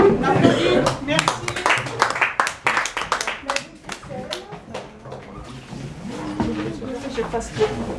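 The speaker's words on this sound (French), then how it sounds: "On applaudit." An audience applauds after a piano-accompanied recital of a French text, a thick burst of sharp claps that thins out gradually, with some voices mixed in.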